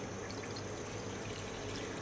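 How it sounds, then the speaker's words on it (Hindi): Water poured into a kadhai (wok) for boiling pasta, a steady broadband splashing rush that stays even and moderately quiet throughout, with no voices. "कढ़ाई में हम ले लेंगे ढाई कप पानी"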